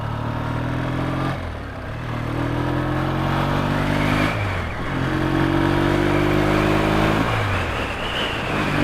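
A Triumph or Yamaha XS650 motorcycle engine pulls hard while riding, its steady harmonic drone rising in pitch through each gear before dropping at the shift, repeating three times, loud and close with rushing wind and no talk.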